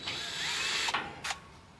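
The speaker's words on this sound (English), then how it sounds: "We're just going to back these screws out a little bit." A cordless power drill backing screws out of the grill on a MRCOOL DIY Hyper Heat central ducted HVAC unit: one sustained whirring run, then a short second burst, close and fairly loud.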